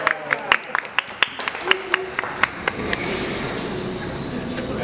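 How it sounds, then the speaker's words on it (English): A few scattered, distinct hand claps ring out for a pizza chef from Naples at a Neapolitan pizza gathering in Chicago, then fade into a murmuring room with voices talking. "Let's give her a nice round of applause."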